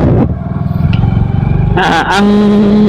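A Skygo Monarch Cub 110 underbone motorcycle runs with a pulsing low engine note while being ridden, then a higher whine rises as it picks up speed, close and loud.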